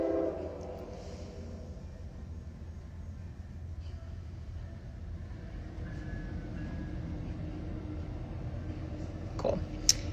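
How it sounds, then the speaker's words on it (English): A train passing at a distance, a low continuous rumble of rail cars with faint tonal horn traces, steady and moderately quiet, with a brief louder clatter near the end. "the train that's going to go by and be very loud"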